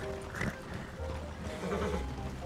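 A horse in the video game Red Dead Redemption 2 gives a faint whinny over soft hoof clip-clops, fairly quiet and distant.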